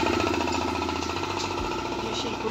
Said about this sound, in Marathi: मशीन चालू झाली आहे, मेन जो गणपतीच्या बॉडीचा कलर आहे तो स्प्रे करण्यासाठी मशीन वापरली जाते.